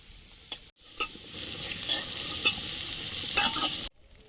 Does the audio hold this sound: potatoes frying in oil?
yes